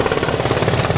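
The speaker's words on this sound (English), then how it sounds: "And this helicopter's coming in. It's coming in hot." A US Coast Guard helicopter passes low overhead at a lakeside cherry festival, its rotor throbbing loud and steady with a dense, continuous engine roar and no voices.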